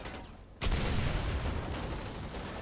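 Gunfire in the war game Foxhole erupts suddenly after a quiet moment and continues as a dense, rolling barrage of shots, close and loud, with no voices.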